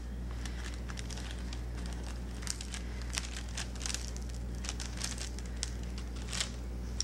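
Sealed paper pieces for epoxy resin jewelry are peeled off a surface, producing faint, soft crinkling and small crackling ticks scattered over a low steady hum, with no talking.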